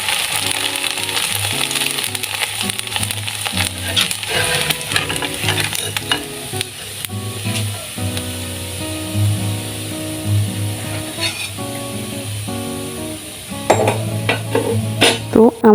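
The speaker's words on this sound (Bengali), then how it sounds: "তো আমার সম্পূর্ণ চাউলগুলো ভাজা হয়ে গেছে, দেখেন একেবারে মুড়ির মতো হয়ে গেছে, অথচ আমি চাউল ভাজি করেছি।" Rice grains fry in boiling oil and are stirred, a loud crackling sizzle overlaid with rapid rattling, ratchet-like scraping bursts and a faint tonal hum running beneath.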